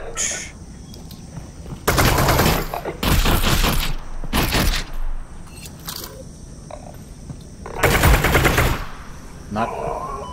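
Gunfire in Half-Life: Alyx, several loud bursts of rapid shots in separate volleys with quieter gaps of game ambience between them.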